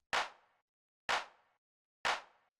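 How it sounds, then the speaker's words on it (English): Three sharp, punchy electronic claps, evenly spaced about a second apart, each with a quick bright snap and short decaying tail, alone with no other sound. "It's just like a standard kind of like punchy clap."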